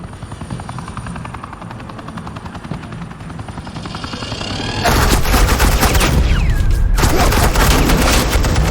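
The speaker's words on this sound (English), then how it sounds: "suppressing fire." Rapid suppressing gunfire bursts loud and close in a Batman game, breaking in halfway through over a steady helicopter rotor drone.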